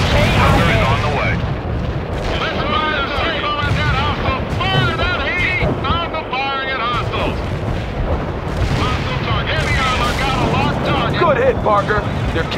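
A napalm strike in the war video game World in Conflict, with dense rolling explosions and crackling fire filling the whole stretch at high volume, while radio-style voices talk over the blasts.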